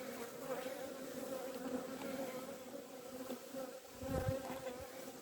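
Honey bees swarm around an open hive in an Irish apiary, a dense, steady buzzing hum close by with individual bees droning past, including one louder pass near the end.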